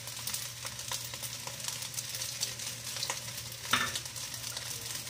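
Squid and other seafood frying in a pan for chaofan while being stirred, giving a steady close sizzle with scraping and clatter of the utensil and a sharper knock near the end.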